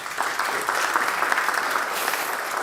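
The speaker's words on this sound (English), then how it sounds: "we are going to give our panelists a round of applause" Audience applause for the panelists at the close of a climate dialogue session in Oman, a steady dense wash of clapping held at an even level throughout.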